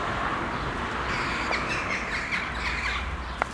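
Birds call outdoors beside a church on a spring walk, several chirps and crow-like caws at moderate distance over a steady broadband background hiss.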